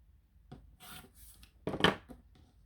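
Quilt fabric pieces being trimmed: faint, soft rasping cuts and brief rubbing scrapes, a few light strokes followed by one louder snip-like burst, in a quiet room.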